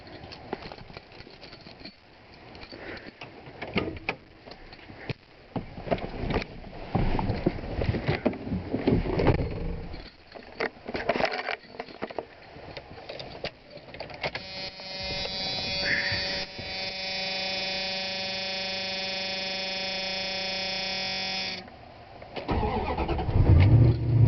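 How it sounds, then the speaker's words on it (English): Cold start of a Dodge Ram pickup truck on a roughly 50-degree day: loud, rough mechanical noise at first, then a steady droning stretch with a sustained tone before a brief change near the end. No talking. "I'm going to do a cold start while I'm at it."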